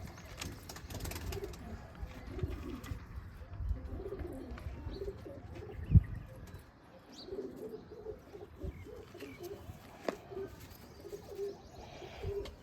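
Pigeons on a rooftop coo softly and repeatedly in low, rolling calls amid faint background noise, with a single brief thump partway through.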